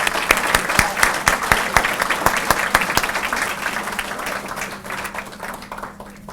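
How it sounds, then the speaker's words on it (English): A room full of people applauds at a military achievement awards ceremony, with dense clapping and distinct nearby hand claps standing out, then gradually fading toward the end. "So please give me a round of applause for CS1 Maxwell."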